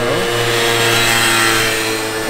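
A Honda Elite 50cc two-stroke scooter with a new exhaust pipe runs steadily up close, giving a loud, continuous buzzing engine note with a slight pitch change near the start and end and no talk over it.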